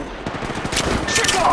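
Rapid gunfire in the mobile battle royale game Apex Legends Mobile: a quick burst of close, sharp shots fired in fast succession over a short stretch, with brief game voice chatter blended in.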